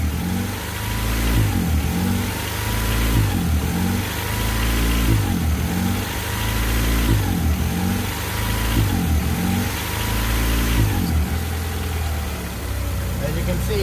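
A car engine runs rough and uneven from sucking in too much air through an open hole, surging in a steady rhythm about once a second, close and loud, with some talking over it.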